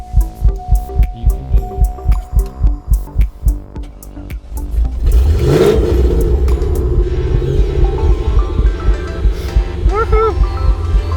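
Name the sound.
car engine cold start in snow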